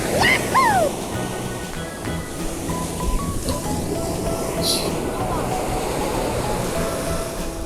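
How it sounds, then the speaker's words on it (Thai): Sea waves wash continuously onto Bang Saen beach in Thailand on a morning outing, a broad steady surf with brief high chirps near the start and voices faintly mixed in. "มาถึงทะเลกันเลยนะเพื่อนๆ"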